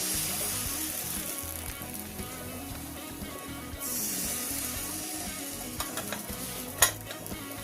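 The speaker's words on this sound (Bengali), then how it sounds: "আমি কাপড় আর খুন্তি নিয়ে এইভাবে ঘুরি ঘুরি পুরোটা লাগিয়ে দিচ্ছি দেখুন" Thin rice-flour batter for sheet pancakes sizzles and crackles steadily on a hot pan as it is spread around with a cloth and spatula, with a few soft scraping clicks near the end.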